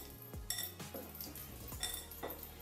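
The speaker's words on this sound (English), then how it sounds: "this is called a pastry blender basically just breaks up that butter and helps you kind of incorporate that" Metal pastry blender cutting butter into a peach crisp topping in a bowl, giving a run of close, scraping clinks and taps against the bowl at an uneven working rhythm, with no talking.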